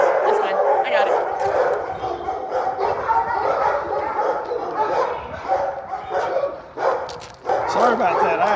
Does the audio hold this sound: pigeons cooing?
no